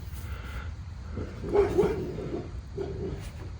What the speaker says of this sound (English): And there goes the doggies.